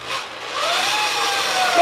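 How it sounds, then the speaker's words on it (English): A power drill bores into wooden furniture, a steady whining grind that stays loud and continuous, with the pitch rising slightly as the bit works through the wood. "Drill it again."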